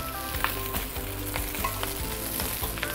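Hokkien prawn noodles stir-fried in a hot wok, a loud continuous sizzle broken by regular scraping and clanking strokes of the spatula against the metal, with no voices.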